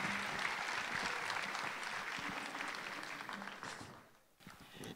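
Audience applause fills a graduation ceremony hall at a private school in Dubai after a speech, a dense sustained clapping that thins and fades toward the end before a brief swell.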